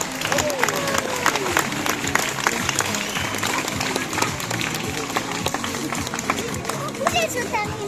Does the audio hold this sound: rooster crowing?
no